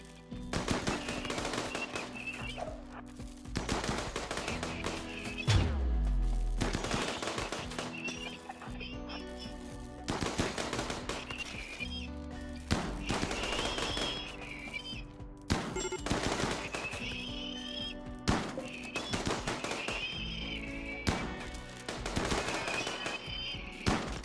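Sustained video-game gunfire from defensive turrets: dense rapid bursts repeating throughout, loud and continuous over a busy game soundscape with music-like tones, no talking.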